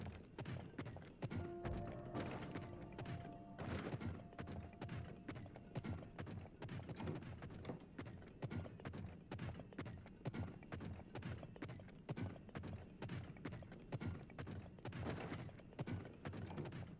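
Horse hooves clip-clop in steady, rapid rhythm while riding through Zelda: Tears of the Kingdom, the game's gallop sounding close and continuous over a constant background bed, with a brief neigh-like tone early on.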